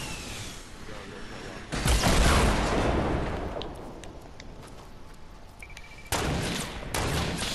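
Bursts of gunfire in the video game Fortnite ring out amid a noisy in-game soundscape, with two loud broadband blasts and several sharp clicks over steady background noise during a duo match.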